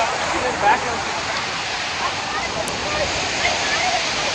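Narasipuram multi-step waterfalls roar as a steady, loud, broadband rush of falling water, continuous and close throughout, with no voices standing out over the noise.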